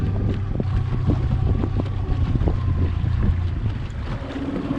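Riverhawk B60 boat's outboard engine running steadily on a lake, a continuous low drone with wind buffeting the microphone and water noise throughout.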